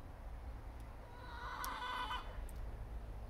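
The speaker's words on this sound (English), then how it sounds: "There's the chickens." Chickens in a backyard coop heard from a back porch, faint and distant clucking that swells briefly in the middle over a constant low rumble of outdoor background noise.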